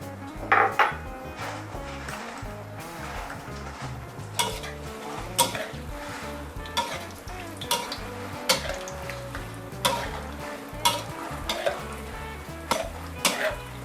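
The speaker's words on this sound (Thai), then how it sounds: "เราก็มาทอดพริกแห้งกันต่อเลยค่ะ" Dried chilies frying in oil in a pan over low heat, a steady sizzle broken by repeated scrapes and clinks of a utensil stirring against the metal.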